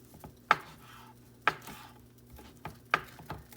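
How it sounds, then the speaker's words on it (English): Fresh cilantro chopped with a knife on a board, three crisp solo knife strikes spaced about a second apart with faint softer taps between, close and quiet. "Now I'm going to chop up some of my fresh cilantro that I got today."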